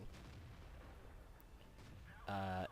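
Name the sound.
tank gun firing in the video game World of Tanks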